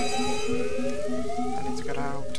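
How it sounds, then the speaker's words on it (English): A fire alarm blares in the game Jazzpunk, a steady pulsing electronic tone with a rising wail layered on top, loud and continuous throughout. "That was a fire alarm."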